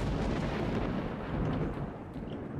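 Gunfire in the video game S.T.A.L.K.E.R.: Shadow of Chernobyl, a dense, loud barrage of overlapping shots and booming reports that merge into a continuous rumbling roar.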